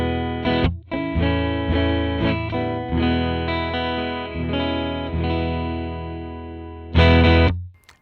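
A clean acoustic guitar played through a Benson Chimera amp plugin with Tall Bird spring reverb, a string of ringing strummed chords with sustained, shimmering tails that stop abruptly at the end.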